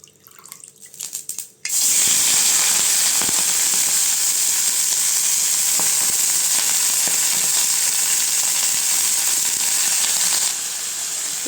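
Pirandai (adamant creeper) stems frying in hot oil for chutney, giving a loud, steady crackling sizzle that bursts in suddenly and holds for about nine seconds before easing slightly.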